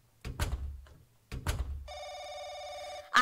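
Telephone ringing inside an apartment in The Crooked Man video game: a steady electronic bell-like ring starts partway through and continues to the end, following a few dull thuds and footstep-like knocks.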